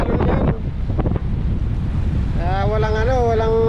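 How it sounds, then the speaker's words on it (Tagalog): Large ocean waves slosh and rush around a small fishing boat at sea, with heavy wind buffeting the microphone, and a voice calls out near the end. "Ang lalaki ng alon."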